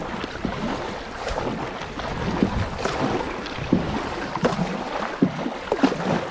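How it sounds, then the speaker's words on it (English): Paddle strokes splash and scrape as a canoe is worked through shallow river water on the Elk River, uneven knocks and sloshes over wind noise on the microphone, with no talk. "I couldn't get a good paddle stroke in to continue going forward."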